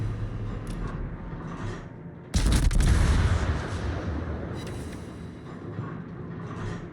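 Naval gunfire and bursting shells from a warship battle video game, a sudden heavy boom followed by a long rumbling roar that slowly fades, with steady dull battle noise before and after.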